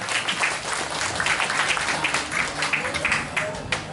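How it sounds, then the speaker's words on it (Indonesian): An audience at a religious lecture claps in a dense, continuous wash of applause that fills the clip, fairly loud and close, with some voices mixed underneath. "Tepuk tangan untuk Tommy."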